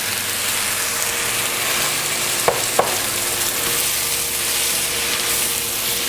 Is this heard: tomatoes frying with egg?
yes